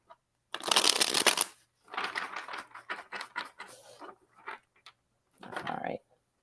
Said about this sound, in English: One more shuffle and then we'll go.